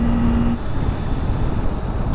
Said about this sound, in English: it's fun to get to just wring the mess out of a little engine like that.